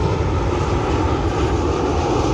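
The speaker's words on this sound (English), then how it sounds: "when you have airplanes flying over and people are living here" An airplane passing overhead gives a steady, broad engine roar that stays loud and even for the whole stretch, with no voices over it.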